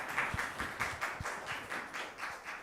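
A group at a church middle and high school youth service claps for a birthday, a faint, fairly even run of rhythmic clapping heard from a distance, with no talking over it.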